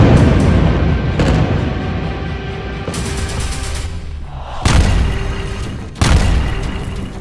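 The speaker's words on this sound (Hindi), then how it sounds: "एक तरफ गाजा पर बमबारी हो रही है" Heavy bombing explosions in Gaza produce loud, deep rumbling booms, with several sharp new blasts breaking in every second or two over a continuous roar.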